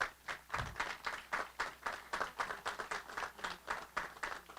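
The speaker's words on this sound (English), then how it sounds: "he's worth a round of applause" A modest, rhythmic round of clapping comes from a small audience at the Holowaty Family Field naming ceremony for Eastern Connecticut State University baseball, evenly paced claps, fairly soft and slightly distant.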